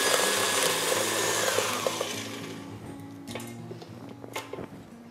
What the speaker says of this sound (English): cover the mixer with a clean tea towel before I switch it on